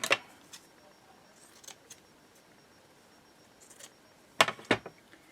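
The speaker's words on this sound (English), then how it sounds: "Let's just cut" Scissors snip through card stock for handmade bunny cards, a few faint, sparse clicks and cuts scattered across a quiet room, with a couple of sharper snips near the end.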